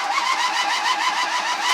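An engine-swapped car with no hood fitted cranks over on a rough-sounding starter and turns into a steady, close-up, loud churning engine noise, with regular pulsing and no voices.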